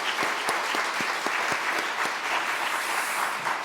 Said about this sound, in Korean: 우리 안수 집사 위해서 격려의 박수